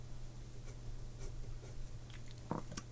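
A pencil drawing the curve of an eye on paper for a portrait, with soft, close scratching strokes and a brief louder scrape near the end over a low steady hum.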